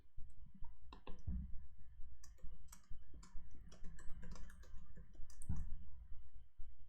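Someone types a message on a computer keyboard, producing irregular bursts of soft, close key clicks with short pauses between runs, quiet overall and without speech.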